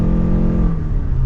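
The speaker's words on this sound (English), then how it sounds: "let's give it another acceleration in just the normal setting from sport mode. This is the first time that I've actually kind of gunned this car" A 2023 Lexus RX350h hybrid SUV accelerating hard with the pedal floored, its engine droning loud and steady as it climbs in pitch.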